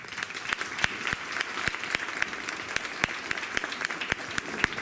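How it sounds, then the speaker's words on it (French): An audience at a Belgian primary school certificate ceremony claps for pupils who earned their CEB. The clapping is fairly sparse, with distinct individual claps standing out sharply over a steady patter. "je pense qu'on peut déjà les applaudir pour ça"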